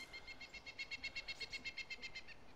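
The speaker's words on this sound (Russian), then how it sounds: "эти птички еще отвлекают" Birds chirp in the DayZ video game, a fast, even run of high, bright tweets repeating about a dozen times over a soft background rustle.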